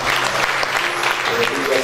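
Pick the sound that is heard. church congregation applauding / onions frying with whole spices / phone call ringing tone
church congregation applauding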